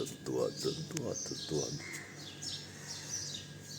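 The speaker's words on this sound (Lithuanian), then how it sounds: "Paukščiukai duoda." Several bright chirping bird calls repeat through the clip, fairly faint against a background with some nearby rustling and movement.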